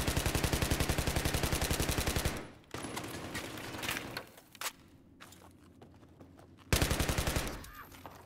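An MTAR fires rapidly in Battlefield 3, delivering two loud, dense automatic bursts with sharp evenly spaced shots, separated by a quieter stretch of scattered distant shots and footsteps.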